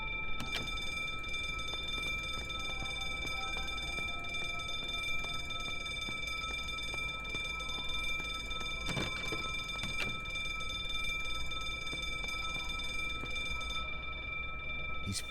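An alarm in The Drifter rings as a continuous high electronic tone, steady and unbroken, over a low background hum with a couple of brief clicks partway through.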